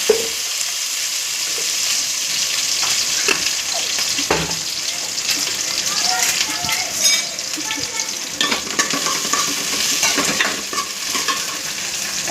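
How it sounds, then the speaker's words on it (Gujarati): Okra frying in oil for a kadhi, with a steady close sizzle and bubbling throughout, broken by occasional clinks and scrapes of stirring. "તો આપણે ભીંડાને સૌ પહેલાં તેલમાં તળી લઈશું"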